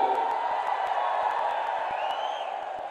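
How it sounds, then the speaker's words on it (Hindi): A crowd at an outdoor political rally in Balasore, Odisha, claps and ululates, a steady, somewhat distant roar with scattered hand claps and a brief high warbling call near the end. "जोरदार करताली हो हुड़हुड़ी हो"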